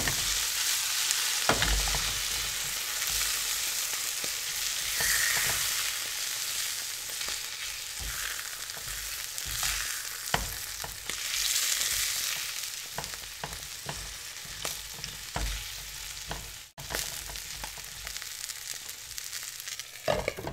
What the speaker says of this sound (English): try and turn our potatoes too, so they don't burn. Just mix it all up.